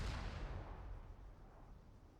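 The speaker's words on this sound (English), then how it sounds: "you can see the smoke of the explosion happening behind me here" Explosion in the Arma 3 military game, a heavy low boom at the start that rolls off into a long rumbling decay with no one talking.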